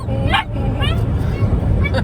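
A new puppy from a shelter yips and barks in short, high bursts, several close yelps over a busy background with people talking nearby.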